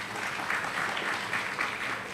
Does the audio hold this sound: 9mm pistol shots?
no